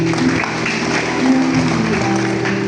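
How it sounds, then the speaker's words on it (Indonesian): Applause from an audience at an Indonesian high school ceremony for parents of grade 10 students. Steady, dense clapping runs the whole time beneath a low sustained hum or tone. "Tepuk tangan."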